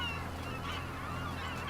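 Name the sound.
seagulls calling, from the video game Farming Simulator 25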